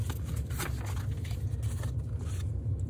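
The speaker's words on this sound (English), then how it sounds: "And then I'm just gonna peel off the paper." Paper being peeled away from a homemade hot-glue texture plate, giving a steady scratchy, crackling tear close up that runs for about three seconds over a low background hum.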